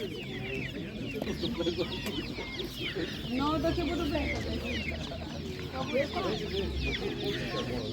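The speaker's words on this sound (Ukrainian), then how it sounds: "Ці курочки гарно несуться вони бомбезно, в принципі." Hens cluck and chatter continuously in a crowded animal market in Ivano-Frankivsk, with overlapping bird calls from many fowl and faint human voices in the background.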